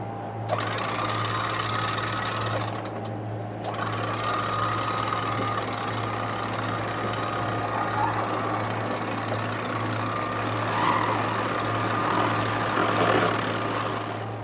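A sailboat's engine runs steadily at a constant low hum with a rattling mechanical texture, while wind and water rush over it and rise and fall slightly throughout.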